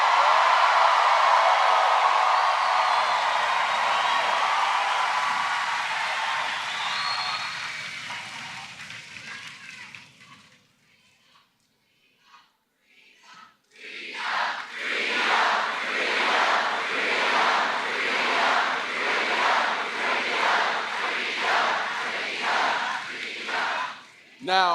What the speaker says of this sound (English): We got to clap for that.